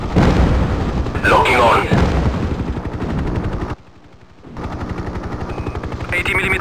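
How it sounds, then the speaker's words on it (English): Helicopter cannon pods firing in the game Hind, a loud continuous rattling burst over rotor roar, a brief near-silent gap, then rapid rhythmic fire resumes, with a voice speaking over it. "Cannon pods armed. Target in range. Firing now."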